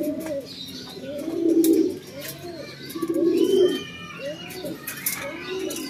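Racing pigeons cooing in repeated low, rolling phrases close by, with faint chirps and background noise between the coos.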